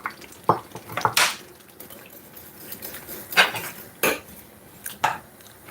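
A metal whisk stirs pasta in a pot, giving scattered sharp clinks and scrapes against the pot, spaced irregularly over a quiet, faintly bubbling background.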